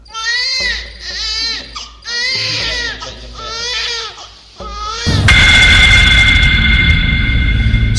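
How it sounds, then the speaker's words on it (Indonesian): A newborn baby cries in loud, close, wailing bursts with short pauses between them, set as an audio drama sound effect, before a harsh steady roaring noise takes over. "sampai akhirnya suara tangis bayi seketika menghentikan suara jeritan dan teriakan dari seorang wanita yang baru saja melahirkan"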